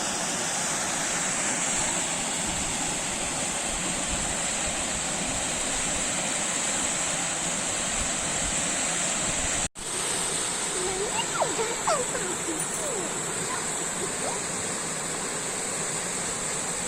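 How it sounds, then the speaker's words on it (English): Girmal waterfall in Purna Wildlife Sanctuary, Gujarat, one of the state's highest falls, gives a steady, broad roar of falling water heard up close and continuously, with a brief break partway through and faint sounds over the rush. "this is Girmal waterfall, which is part of Purna Wildlife Sanctuary"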